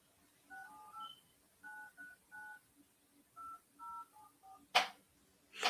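Telephone keypad dialing a number for a call, a series of short two-tone DTMF beeps in small clusters with pauses between them, faint and close, ending with a couple of brief louder clicks.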